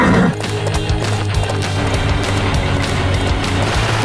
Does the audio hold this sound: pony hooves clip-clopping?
yes